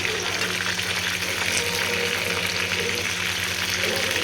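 Maida-coated food frying in hot oil gives a dense, continuous sizzle at close range, steady and fairly loud, as pieces are flipped in the pan; no one speaks.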